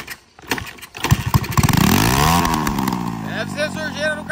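A new motorcycle engine cranks, catches and revs up, then sputters and wavers unevenly as it runs close by, with a voice talking over it near the end.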